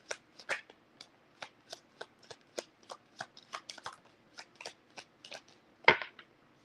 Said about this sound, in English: So I'm going to use these cards here and see what is going on.